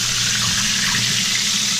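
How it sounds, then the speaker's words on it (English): Excess frying oil being poured out in a home kitchen, a steady close pour of liquid with a continuous splashing hiss, no talking. "Let's pour some of this out, y'all."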